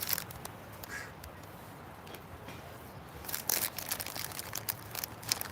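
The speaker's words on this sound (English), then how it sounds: "You guys watching me feed the birds, which is kind of cool." Ducks quacking while birds are fed at a windy park, brief scattered quacks and pecking crackles over steady wind noise, close and without talk.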